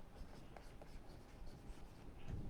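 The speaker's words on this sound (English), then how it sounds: "let me write here." Pen or marker scratching on paper during a live contour drawing demonstration, a steady soft scraping texture that runs throughout at close range, with no talk over it.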